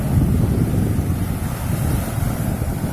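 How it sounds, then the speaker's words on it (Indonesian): Large waves roll in on a Red Sea beach at Jeddah, a deep continuous surf rumble heavily buffeted by wind blowing across the microphone. "Baru lihat nih ombaknya gede banget."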